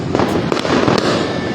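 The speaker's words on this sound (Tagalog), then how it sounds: "Ayan guys, putukan, Happy New Year" A short, thick burst of New Year fireworks in Makati, with rapid crackling firecrackers and several sharp bangs packed closely together.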